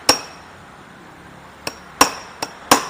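Five sharp hammer taps while working loose a tight-fitting industrial fan part: one at the start, then a pause, then four quick strikes close together, near and crisp with no voices.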